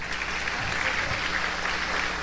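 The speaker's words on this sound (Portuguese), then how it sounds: "palmas para o Renato aqui" An audience at a church event claps for a man named Renato, a dense, steady burst of applause that continues evenly throughout.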